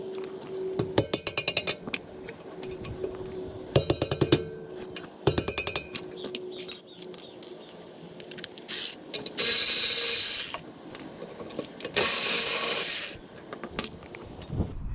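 Ratchet spinning off the two caliper mount bolts on the rear brakes of a 2018 Toyota Sienna, heard as repeated bursts of rapid close clicking separated by pauses, with a couple of louder hiss-like scraping stretches near the end.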